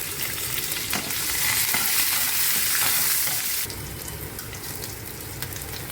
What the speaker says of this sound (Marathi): मिरच्या तेलात परतून घ्यायचं.